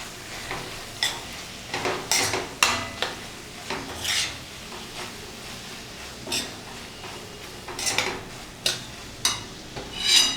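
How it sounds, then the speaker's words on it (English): Paneer bhurji, a cottage cheese scramble with salt, being stirred in a pan: a utensil scrapes and taps against the metal in irregular strokes over a soft, steady sizzle, close up, with no talking. "Just sprinkle some amount of salt and give this a nice good mix."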